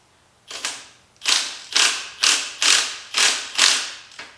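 A hand ratchet tightens the lower nuts on a Honda TRX250R ATV steering stem, giving six or so short, rasping clicking strokes in an even rhythm, close and clear with no speech.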